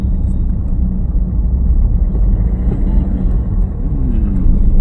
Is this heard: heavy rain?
no